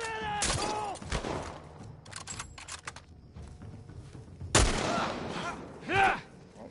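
Gunfire in The Last of Us Part 1 video game: a few sharp, loud shots with ringing tails, one near the start and a heavy blast later, separated by quieter clatter and movement sounds.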